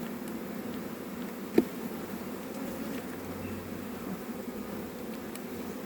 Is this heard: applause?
no